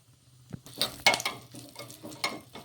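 Cumin seeds and garlic cloves fry in hot oil with a soft crackling sizzle, marked by a few light clinks of a spoon against the pan over a low steady hum.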